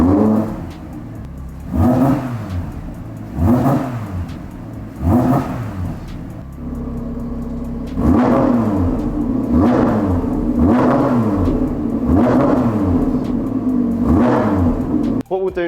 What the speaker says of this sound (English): Let me give you some revs now.